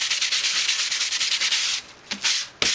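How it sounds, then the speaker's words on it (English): Sanding block rubbing over an acrylic-painted background, quick rhythmic back-and-forth scrapes, close and loud, ending in a few separate strokes. "take your sanding block and sand it"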